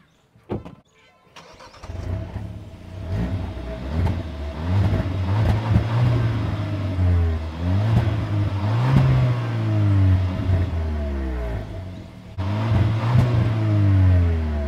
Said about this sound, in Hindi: तो यहाँ पे एग्जॉस्ट नोट आपने सुन लिया होगा